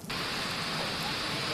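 Heavy monsoon downpour disrupting local railway services, heard as a dense, steady, loud hiss that begins abruptly and fills the whole stretch without a break.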